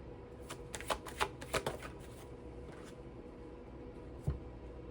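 Tarot cards being shuffled by hand at close range, a run of quick riffling bursts in the first two seconds, then a quieter pause and a single sharp card snap near the end.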